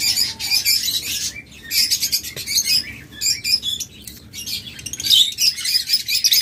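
A breeding pair of pet birds, hatched in 2023, chirps in repeated bright bursts of rapid tweets with short pauses between them. The calls sound close and lively, with no voices.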